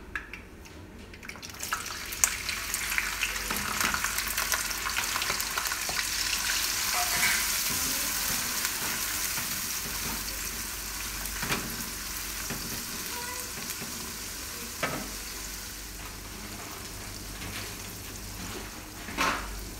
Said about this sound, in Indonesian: ini buat menggoreng terinya nanti setengah mateng